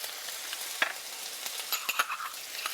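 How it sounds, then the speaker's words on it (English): Two tablespoons of ginger hit a hot pan while cooking mushrooms, giving a steady close sizzle with scraping stir strokes and a few sharp clicks of a utensil against the metal. "We add our theme spice, ginger, 2 tablespoons of it"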